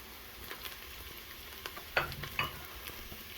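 Cumin, chipotle chili seasoning, oregano and paprika sautéing in an Instant Pot, a faint sizzle with a few sharper stirring scrapes and taps near the middle.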